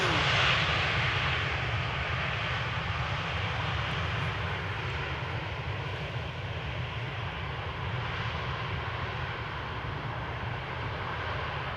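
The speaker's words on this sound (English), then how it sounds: "All right, triple arriving from Doha will be landing on center." A jet airliner arriving from Doha lands at Amsterdam Schiphol Airport, its engines producing a steady, loud, broadband roar that holds nearly constant for the whole stretch, with no voices over it.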